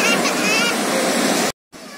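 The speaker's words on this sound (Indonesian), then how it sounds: "Suara ombak dan suasana pantai yang bisa kalian nikmati" Ocean surf at Citepus beach in Pelabuhan Ratu roars as a broad, loud, continuous wash of breaking waves up close, with faint voices mixed in before an abrupt cut to silence and a quieter return.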